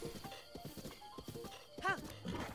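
Horse hooves beat in a gentle, steady gallop rhythm in the video game Zelda: Breath of the Wild, moderately loud, with a brief whinny-like tonal burst near the end.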